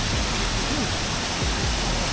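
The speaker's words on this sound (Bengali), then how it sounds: "এই যে রক গার্ডেনের এই যে ঝর্ণার জল পড়ছে" The Rock Garden waterfall in Darjeeling roars steadily and loudly, a dense unbroken rush of falling water filling the whole clip with no pauses.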